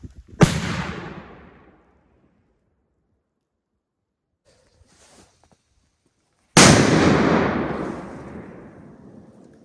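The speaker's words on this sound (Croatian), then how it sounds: "Idemo na testiranje, znači 30 grama Dum Bum petardi." A 30 gram Dum Bum firecracker goes off outdoors, one sharp loud blast that fades over a second; after a quiet stretch with faint rustling, a second heavy boom rolls out and decays slowly.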